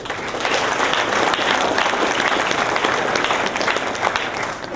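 A graduation crowd gives a long round of applause for a student speaker, many hands clapping in a dense, even wash that carries on for several seconds with murmuring voices beneath.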